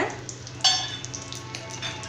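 Garlic and chopped coconut sizzle steadily in hot oil, with a sharp metallic scrape of stirring and a few light clinks against the pan.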